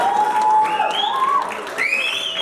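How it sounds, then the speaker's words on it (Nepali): Steady applause rises from an audience as a guest is invited onto the stage at a public event, with sweeping musical tones gliding over the clapping throughout. "जोरदार ताली उहाँको लागि"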